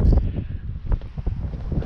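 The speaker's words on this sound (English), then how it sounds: "It is a warm, windy day" Gusty wind buffeting the microphone, with low rumbling surges and rustling that swell and ease over a couple of seconds.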